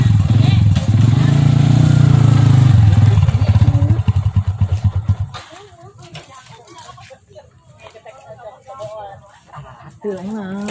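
A motorcycle engine runs loud and close for several seconds, then sputters and cuts off as the bike is parked, followed by people talking.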